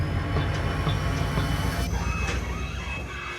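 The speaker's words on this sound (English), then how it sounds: "But will the train move?" A diesel freight train hauling 500 tons of freshly milled lumber through the Canadian Arctic rolls steadily nearby, with a loud rumbling drone, rail clatter and occasional wheel squeals.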